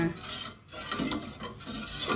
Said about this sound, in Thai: เราก็ละลายเครื่องแกงก่อน